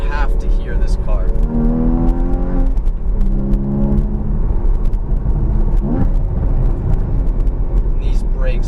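A Porsche Cayman GTS engine drones and rises in pitch while driving, loud and steady under someone talking throughout.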